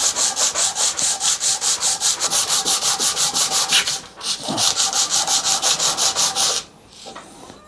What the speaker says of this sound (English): then we'll get on the Scotch-Brite wheel, which should blend them off quite nice